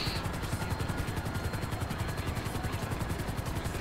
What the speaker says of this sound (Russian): я от вертушек прячусь.